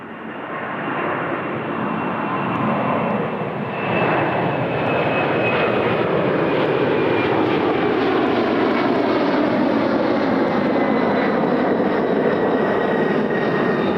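Air Canada flight 469 airliner rolling down the runway at Toronto Pearson airport, a loud, continuous engine roar with a thin high whine that holds steady and gradually lowers in pitch.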